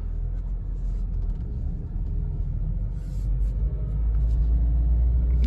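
A 2020 Mazda MX-5 Miata Club pulls away in first gear with a steady, close, low engine rumble that swells slightly toward the end.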